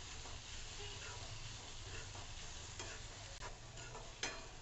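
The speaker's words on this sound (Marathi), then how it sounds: "आता ही फोडणी छान खमंग करून घ्यायची आपल्याला." Spices temper in hot oil with chopped tomato and coriander powder for a tinda masala dish, a soft, steady sizzle and crackle in a pan with a few faint stirring clicks.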